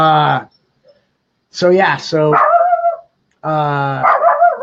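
A dog barks and yips loudly at close range in a few separate bursts, with short whimpering tones between them and quiet gaps in between.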